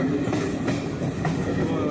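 A train runs along the rails in a steady, low, moderately faint rumble, with a faint clickety-clack heard from on board during a trip in Odisha.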